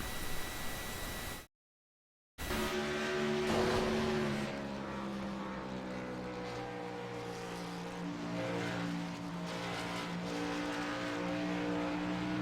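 Race cars roar around a track while one spins in traffic, engine tones rising and falling in overlapping drones, loud and steady after a brief cut to silence.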